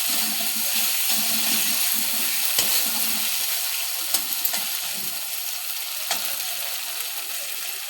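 Fried prawns with turmeric are stirred in a pan, giving a continuous sizzling hiss with a few sharp clinks of the utensil against the pan, close up and without speech.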